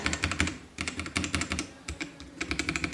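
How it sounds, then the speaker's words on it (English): Close, crisp typing on a Kreo Hive 65 mechanical keyboard, with quick bursts of keystrokes broken by short pauses and no other sounds. "let's quickly talk about the key sound and typing feel"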